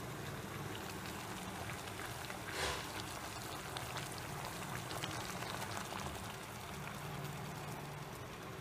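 A pot of water boiling with guava leaves for tea bubbles and simmers steadily, fairly quiet and close, with no voices over it.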